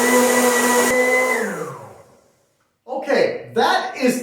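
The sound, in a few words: high-powered blender blending coconut milk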